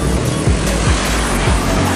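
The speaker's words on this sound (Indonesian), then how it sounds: "Ini terlihat bus pariwisata melewati Batang Pamo arah Jakarta." A tour bus passes on the road at Batang Pamo, Sungai Lasi, Solok, bound for Jakarta, as a loud continuous engine and tire roar close by that holds steady throughout.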